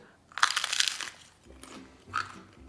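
Bites into a crunchy garlic-topped rustic Hot Pocket, two sharp close crunches with brief chewing between them, no talking.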